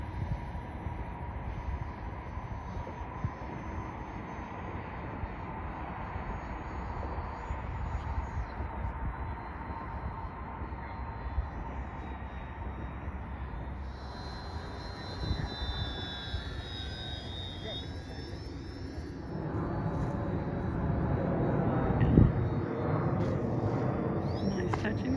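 A radio-controlled Twin Otter model airplane takes off from a lake, its engines a faint, steady hum at a distance that rises in pitch and swells louder toward the end.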